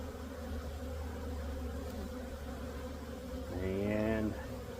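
Honeybees drone steadily around an opened hive during a colony check, a close continuous buzz with one bee passing loud and near toward the end.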